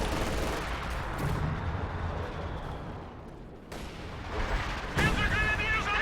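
LEFH artillery shells land during a Company of Heroes 2 match, sounding as loud booming impacts and bursts of gunfire over a constant battle din, with two sharp blasts near the end.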